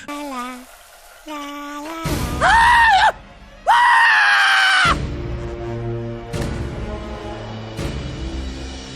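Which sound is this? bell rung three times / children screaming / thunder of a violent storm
children screaming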